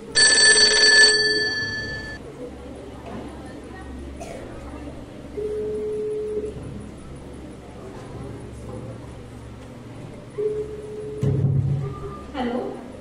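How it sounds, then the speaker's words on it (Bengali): A telephone bell rings loudly for about two seconds at the start, then the scene settles into quiet room noise with scattered thumps and knocks from a staged drama. "তিন্নির বাবা প্রমিতা ম্যামকে ফোন করে হুমকি দেয়।"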